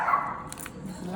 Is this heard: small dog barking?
yes